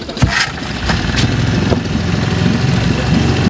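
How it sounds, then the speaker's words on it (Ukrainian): A river boat motor starts with a few sputters, then settles into a steady loud rumble, running continuously close by. "Запускає мотор."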